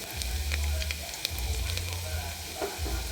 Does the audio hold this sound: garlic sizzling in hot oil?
yes